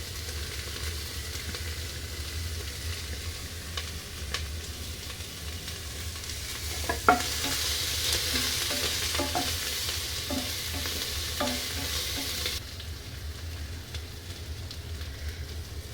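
Green chilli, ginger and garlic sauté in a hot pan with a steady low sizzle, broken by a few clinks and scrapes of stirring partway through.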